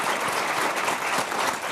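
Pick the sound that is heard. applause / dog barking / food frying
applause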